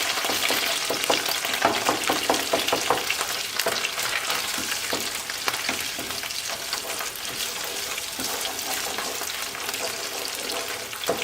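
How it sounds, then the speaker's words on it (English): Tomato paste frying in a pot for a Haitian-style dish, a steady loud sizzle with crackling pops and the scrape of stirring throughout, close up and without talk. "And you want to cook your tomato paste."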